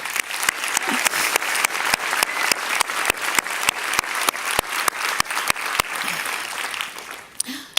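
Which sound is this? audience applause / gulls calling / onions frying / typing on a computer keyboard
audience applause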